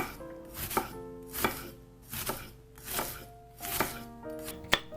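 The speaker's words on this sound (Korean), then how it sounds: "양파 반개는채 썰어 넣어주시고요" A knife chops steadily through half an onion, sliced into strips on a cutting board, about seven crisp strokes at an even, brisk rhythm, close and clear.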